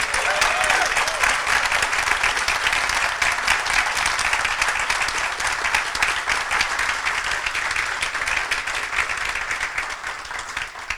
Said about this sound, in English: Can I have a round of applause for these two speeches?